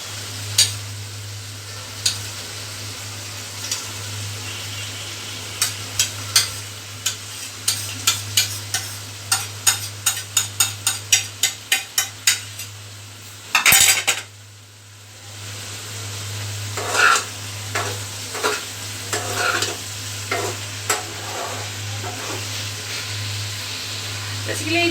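Onions and chopped ginger frying in a pan as they are stirred, a constant hiss of oil over a low hum, with a run of quick rhythmic scraping taps, a brief loud burst, then more scattered stirring strokes.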